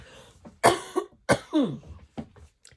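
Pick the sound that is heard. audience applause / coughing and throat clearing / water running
coughing and throat clearing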